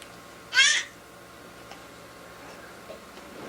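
A single short cat meow close by, followed by quiet room tone with a few faint ticks.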